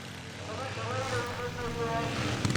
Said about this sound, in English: So it's the single cylinder BSA engine of Chris Collins who leads Steve Gagg's Triumph twin bike.